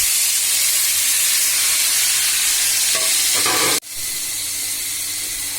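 Loud, continuous sizzle of taro and shrimp frying in a hot pan as spices go in, with a few short stirring scrapes and a sharp clatter near the end before the hiss resumes.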